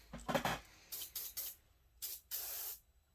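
WD-40 lubricant sprays in short hissing bursts, about five puffs of uneven length, while a McCulloch 1-85 chainsaw engine is serviced. The bursts are close and clear, with no talk.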